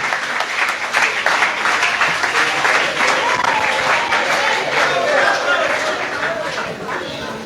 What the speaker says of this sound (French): Accueillons-les avec un applaudissement,